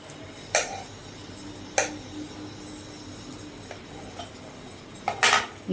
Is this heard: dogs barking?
no